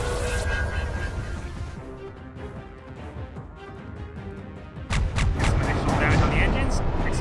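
Space combat weapons fire in the Halcyon 6 video game, with dense booming blasts and rumbling explosions that swell louder midway, layered with sharp crackling impacts.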